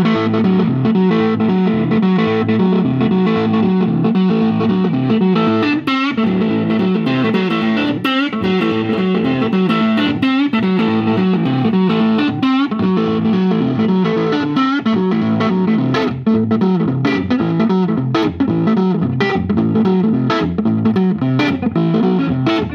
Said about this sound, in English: We got 1953 Gibson Les Paul Goldtop named Bob